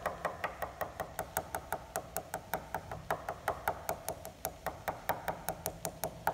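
A composite aircraft wing being tap-tested over a dent to check for delamination gives a steady series of about thirty sharp, evenly spaced knocks, close and clear, with no talking.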